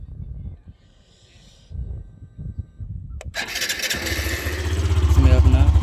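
A Hero Xtreme 125R motorcycle engine cranks and fires up, then settles into a loud, steady exhaust idle that grows stronger nearby. Someone speaks quietly before the start.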